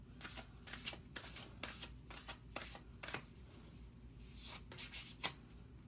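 Tarot cards shuffled by hand in a quiet room, a run of soft riffling bursts and flicks that ends with a sharper snap as a card is pulled, all close and fairly faint.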